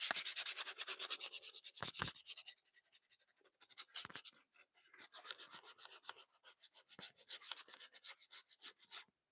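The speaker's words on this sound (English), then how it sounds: "I'll sand it real quick." Hand sanding a wooden hatchet handle: rapid rhythmic back-and-forth rasping strokes, close and crisp, with a brief pause and then uneven bursts of scrubbing.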